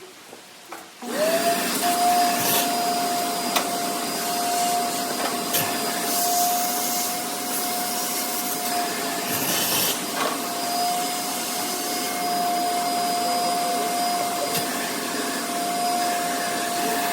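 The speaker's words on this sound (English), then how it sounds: "we got our wet dry shop vac, and here we go" Wet/dry shop vac switched on after a few clicks, then running steadily with a loud, close whine and rushing airflow.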